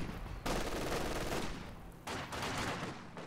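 Light machine gun fire crackles in a real-time strategy game battle, with conscripts and grenadiers clashing, in sustained bursts of rapid gunfire with short gaps between them, fairly faint overall.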